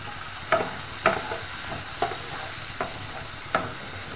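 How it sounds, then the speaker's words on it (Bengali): Carrot and capsicum with garlic fry in a home kitchen pan, a low steady sizzle punctuated by five or six regular spatula scrapes and taps. "গাজর ক্যাপসিকামটা একটু ভাজা ভাজা হয়ে যাক"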